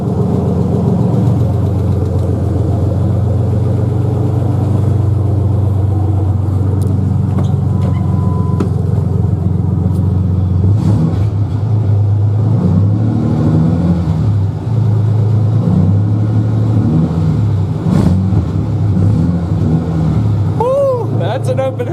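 A 1995 Ford Ranger 4.0 running on open headers gives a loud, steady, deep idle that rumbles on throughout, with a brief voice at times over the exhaust drone.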